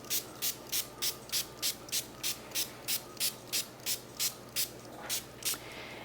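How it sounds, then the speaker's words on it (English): A small handheld spray mister wets microgreen seeds in a self-watering tray, giving about thirteen short, evenly spaced hissing squirts at close range with no talk. "we're gonna mist them with this little mister that's provided"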